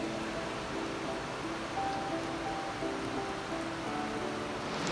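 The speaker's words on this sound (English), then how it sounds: "It's raining a lot." Heavy rain falls steadily on a mountain trekking route at Balu Ka Ghera on the Hampta Pass trail, a constant broadband hiss with no break across the stretch, near and even, with no voices over it.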